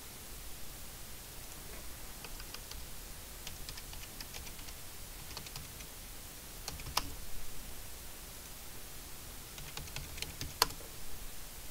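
Typing on a computer keyboard, faint clusters of soft key clicks in short bursts over a steady hiss, with a couple of sharper keystrokes standing out.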